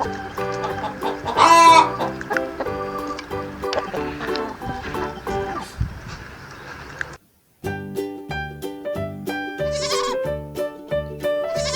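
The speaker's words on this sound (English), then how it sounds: "Chicken eat grains, seeds, and insects. Chicken provides us eggs and meat." Farm chicken clucking and crowing amid a kids' learning song with bright musical backing, with goat-like bleats also mixed in; the calls stand out in short bursts over the music.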